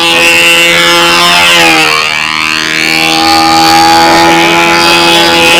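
A PA-61 model aircraft engine fitted with a rear exhaust muffler screams loudly at an outdoor control-line flying event, its pitch swooping down and back up with a Doppler-like sweep as it passes.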